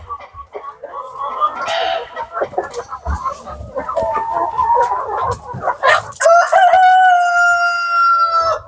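Andijan black chickens cluck and chatter steadily up close, and a rooster lets out a loud, drawn-out crow near the end.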